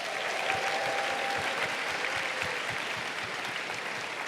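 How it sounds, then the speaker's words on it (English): Round of applause from an audience at a university honors and scholars launch event, steady many-handed clapping at moderate level, even and continuous with individual claps faintly distinct. "Can we please also give them a round of applause?"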